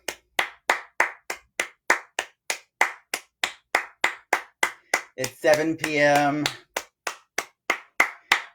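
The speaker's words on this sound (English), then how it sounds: "I know that people are outside clapping" Steady hand clapping from people outside at 7 p.m., a regular rhythm of sharp claps at roughly two per second, with one brief spoken line in the middle.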